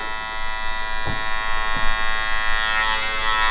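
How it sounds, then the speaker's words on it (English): An electric hair clipper buzzes steadily close by while trimming the fine hairs around the ear during a self-cut, with a couple of brief changes in tone as the blades move against the head. "You put your clipper right here and you move your head."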